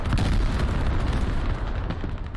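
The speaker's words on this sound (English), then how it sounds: "There's artillery, great addition." Artillery fire in the tactical shooter game Squad, a loud continuous rumbling barrage of heavy booms and blasts filling the whole clip with deep low-end roar, no talking.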